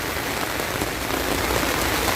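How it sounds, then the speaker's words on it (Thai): Steady rain pours outdoors during a bottom-fishing trip, a continuous close hiss of drops on surfaces with no pauses and no voices. "ฝนตก อยู่ได้เปียกหมด"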